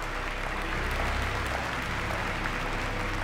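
In the Virginia video game, a crowd claps steadily and densely, a sustained even wash of applause that continues without pause.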